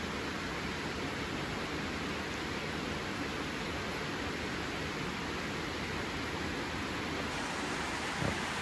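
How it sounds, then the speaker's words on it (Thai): A heavy rainstorm pours down on a garden house in Udon Thani, Thailand, a dense, loud, unbroken hiss of falling rain that holds steady throughout with no voices. "ฝนตกครับ"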